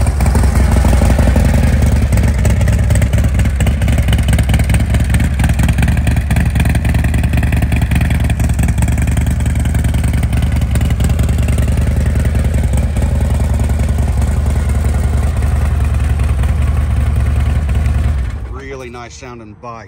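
A 2014 Harley-Davidson Street Glide Special runs steadily with a loud, continuous rumbling engine note that holds for most of the stretch before cutting off near the end.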